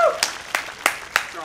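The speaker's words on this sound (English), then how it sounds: "Applause is gonna play right now." An applause sound effect plays as five separate, evenly spaced handclaps, fairly faint, just after a brief voice at the start.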